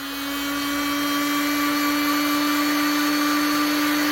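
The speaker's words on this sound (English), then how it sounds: "So you need a heat gun" Steady loud whirring hum of a heat gun running while heating a solvent-welded pipe fitting on a koi pond build, a continuous close drone with a strong tonal whine, alone without speech.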